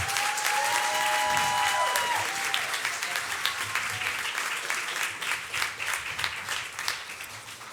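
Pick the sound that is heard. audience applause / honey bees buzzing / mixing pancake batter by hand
audience applause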